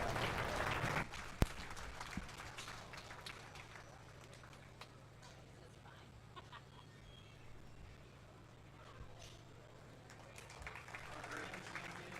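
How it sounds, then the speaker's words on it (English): Audience applause at a county fair sheep and goat show, a burst of scattered clapping at the start that quickly fades into crowd murmur and low background rumble, with a sharp knock partway through. "Let's give all of them a round of applause for a job well done."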